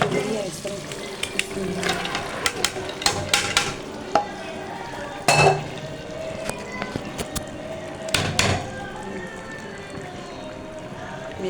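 Chana dal and pumpkin fry in a pan, a low sizzle under repeated scrapes and clatters of a spoon stirring, with a few sharper knocks, close and moderately loud.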